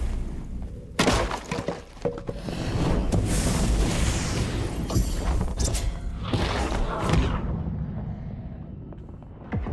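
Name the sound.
explosion caused by a skeletal mage in a video game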